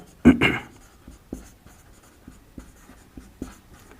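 Chalk or marker strokes on a board during a maths lesson: a loud scrape at the start, then sparse, soft taps and short strokes spread out, heard close in a quiet room.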